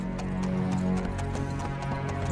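Horse hooves in the video game Kingdom Come: Deliverance 2, a run of clip-clopping hoofbeats at a steady rhythm over low background music, moderately loud and close.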